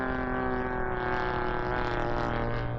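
A Legend Hobby 81-inch Super Chipmunk RC plane's Stinger 40 engine burbles richly at steady power, a continuous buzzing drone heard close and unbroken.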